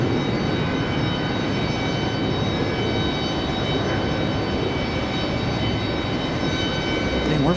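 A JetBlue airliner passes at Raleigh-Durham International Airport with a loud, sustained engine roar and faint whining tones layered over it, steady throughout and swelling slightly at the end.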